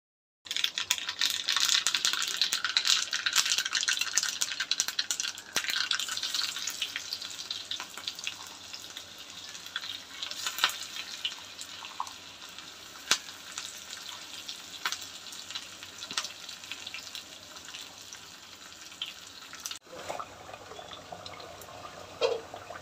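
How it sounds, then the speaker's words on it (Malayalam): Mustard seeds frying in oil as a tempering for a Kerala-style potato chicken curry, a loud, steady crackling sizzle throughout with scattered sharp pops, easing slightly toward the end; no voices. "ഇനി ആ കറിക്കകത്ത് നമുക്ക് കടുക് കൂടെ വറുത്ത് ചേർക്കാമേ"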